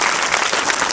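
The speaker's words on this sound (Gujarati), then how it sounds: "બાપુને તાળીઓના ખૂબ ગગડાટથી આપણે વાગડના ધરતીનું સ્વાગત કરીએ" Loud, dense clapping from a crowd welcoming Bapu at a religious procession for Shri Valinath Mahadev, steady and unbroken throughout the short burst.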